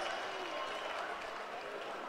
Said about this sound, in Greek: Αλλά αυτή τη φορά έχουμε ένα φοβερό καρφί. Κάτω από πολλά χειροκροτήματα για την τη Μαυράκου.